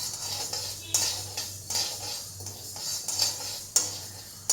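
Garlic fries in a pan for a garlic pickle, giving a soft steady sizzle. A utensil scrapes and clinks against the pan at irregular intervals, close by, with no voices.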